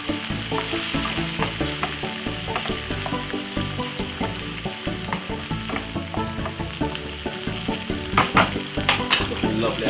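A pan frying ingredients for Jamaican corned beef sizzles continuously and up close. Stirring adds a rhythmic scraping and clatter on top, with a few louder clanks near the end and no speech.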